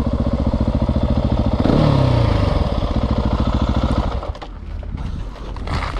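A KTM SMR 690 motorcycle engine revs up from a lumpy single-cylinder idle into a loud, close rising roar, then drops back to a rough, pulsing idle.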